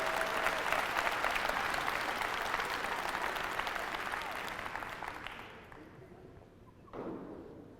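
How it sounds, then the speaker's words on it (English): Keynote audience applauding, a dense wash of clapping that holds strongly for about five seconds and then fades out, followed by a brief thump near the end. "Can you give yourself a round of applause for even being here?"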